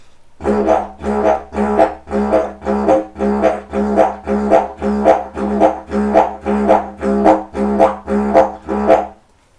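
A Heartland didgeridoo plays a steady, unbroken drone with a fast, regular throbbing pulse running through it, close and fairly loud.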